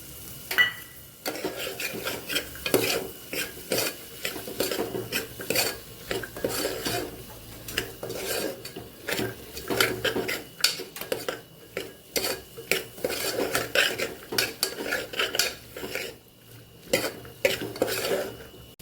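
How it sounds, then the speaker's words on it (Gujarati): Peas are stirred into spice masala for Vadodara sev usal, heard as repeated rhythmic metal spoon scrapes and clanks against a pan over a faint sizzle, close and steady for many seconds with no talking. "તો અહીંયા આપણે વટાણા ઉમેરી દઈશું।"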